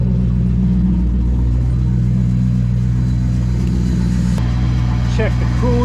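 Dodge Ramcharger rock crawler engine runs after a slow start, a steady low rumbling idle close by with a slight lumpy pulse, and a brief clank near the end.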